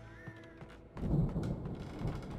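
Low rumbling thunder from a storm in the game Alan Wake, rolling in after a quiet moment and continuing faintly for a couple of seconds.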